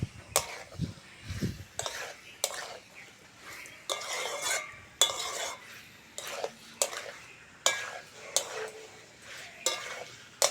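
Jackfruit and potato are stirred and fried with spices in a pan, giving repeated scraping clatters of a utensil against metal in an uneven rhythm over a soft sizzle, with a few low thumps early on.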